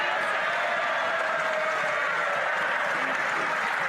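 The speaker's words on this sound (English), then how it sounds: "This is her getting a standing ovation from the Conservatives for saying that." Conservatives in parliament give a standing ovation, steady sustained applause and cheering filling the chamber without a break.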